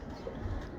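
A short, low, muffled coo from a kamgar flying pigeon at a breeder's loft, faint and barely a second long.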